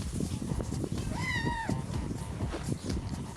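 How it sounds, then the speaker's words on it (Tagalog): A cat gives a single drawn-out meow, rising then falling, close by over constant background noise and clatter in a home setting. "Pusa mo ba yan, Riley?"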